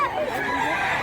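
A rooster gives a brief, drawn-out crowing call close by, with no talk over it.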